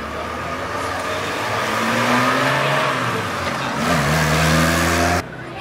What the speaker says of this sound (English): By entry 124 is a 1965 Hillman owned by Mrs. Shormishta Hajra and is being driven by Mr.